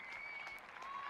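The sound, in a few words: cricket ground crowd applauding a half-century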